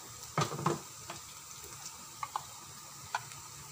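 Vegetables with chili powder, turmeric and curry powder stirred in a frying pan, a soft continuous sizzle broken by a few sharp spatula scrapes and clinks against the pan, close and fairly quiet, without voices.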